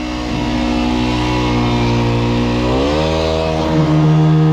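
An engine roars steadily at high revs during concrete pouring on a building's ring beam, its pitch climbing partway through and holding loud and close, like a small motor held at full throttle.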